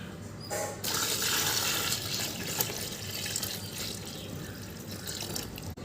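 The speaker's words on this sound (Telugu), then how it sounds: "ఒక మూడు లీటర్లు వాటర్ వాటర్ పోసుకుంటున్నా" About three litres of water poured into a container to make a banana flower fertilizer, a steady close splashing pour running almost throughout.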